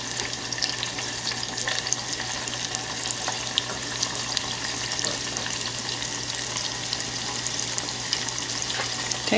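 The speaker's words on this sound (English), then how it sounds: "I'm just gonna throw the rest of my onions into my oil, my hot oil" Chopped onions frying in hot oil while making tacos de canasta, a steady dense sizzle and crackle that runs without a break at close range, with no talking.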